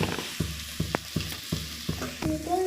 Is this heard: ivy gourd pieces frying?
yes